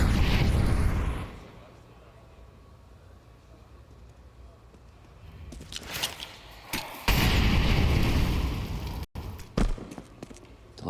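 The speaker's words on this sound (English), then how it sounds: "Delayed by the smokes and the mollies." Smoke grenades and molotovs go off in a Counter-Strike match at a major tournament: a heavy burst opens, then a hushed rumble, and later more loud bursts and crackling pops with chatter nearby.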